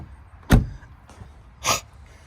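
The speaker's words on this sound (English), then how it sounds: "And listen to this door close." Door of a Mercedes 190E, December 1988 build, shuts with a sharp solid thump, followed a second later by a softer second closing sound, close and alone in a quiet space.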